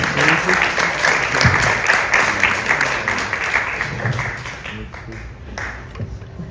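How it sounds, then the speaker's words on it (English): Sustained applause from a crowd at a Signal Hill Chamber of Commerce board installation, dense clapping that holds steady for several seconds before gradually thinning and fading. "I'd like you to all give a big round of applause for Chris Arnaldo and Edward Jones."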